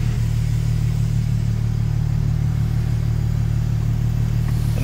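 Nissan Skyline rolling backward in reverse gear, a steady low engine drone holding evenly throughout, loud and close with no talk over it.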